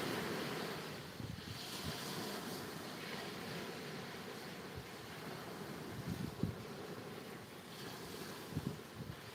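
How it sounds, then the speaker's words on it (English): Waves lapping gently at Eastney Beach with wind buffeting the microphone, a soft, continuous wash with occasional low thumps, no voices. "Through the waves lapping and stuff, and you know, all the ambient sounds"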